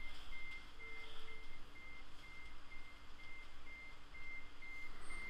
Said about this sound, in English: So I'm up getting the second truck backed in.